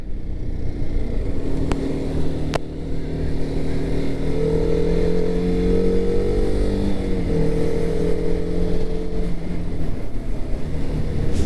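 A TVS RR 310 motorcycle cruising along an Indian road, its engine giving a steady, continuous drone with rising and falling harmonic tones as it shifts speed, loud and close throughout with wind rush and no talk.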